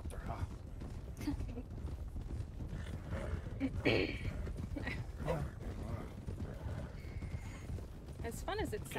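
In Red Dead Redemption 2, a horse whinnies and snorts while its hooves clip-clop at varying pace, with people talking over the busy scene.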